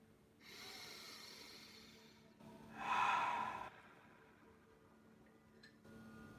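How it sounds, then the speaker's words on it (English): Slow, deep breaths led during a guided exercise, with a long soft inhale-like hiss building to a louder, fuller exhale at the peak, then quieter breaths trailing off, close and alone without talk. "Breathe with me."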